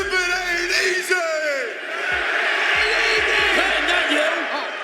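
A wrestling arena crowd loudly chants back the Godfather's entrance lines in unison, a roaring mass of voices with cheers and whoops swelling over a few seconds.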